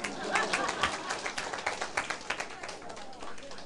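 Audience clapping at a Taiwan Civil Government self-governance academy session, a short burst of scattered, uneven claps from a small crowd, fading out, with voices murmuring underneath.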